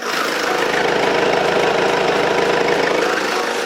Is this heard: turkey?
no